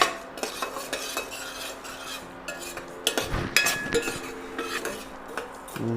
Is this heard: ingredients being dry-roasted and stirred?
yes